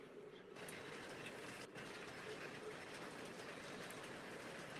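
Model trains with turbine tenders that need oiling run with a continuous loud rattling, grinding clatter, steady and close, broken by a few brief clicks.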